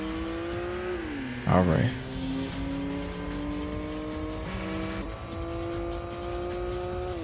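Race cars in the video game Import Tuner Challenge accelerate with a steady, shifting engine drone and a brief tire squeal near the start, while someone speaks briefly over the game audio.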